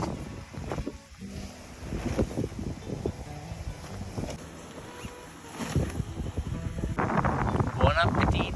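Strong wind gusts outdoors on a rainy day at a camp, roaring steadily into the microphone and rising stronger near the end, while people talk underneath.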